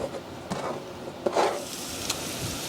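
Garlic, onion and sliced baby bella mushrooms cooking in a pan, a soft close sizzle broken by a few stirring scrapes and clicks, no voices.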